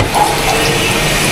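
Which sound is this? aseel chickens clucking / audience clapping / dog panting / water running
water running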